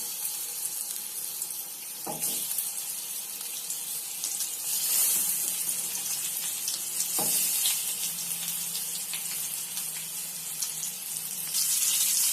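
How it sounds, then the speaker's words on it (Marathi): Seer fish pieces laid into hot oil in a pan, giving a steady, fairly faint sizzling hiss across the whole clip, with brief clatters at a couple of points. "आपला तेल तापलेलं आहे। आता आपण तुकडे टाकूया त्याचे।"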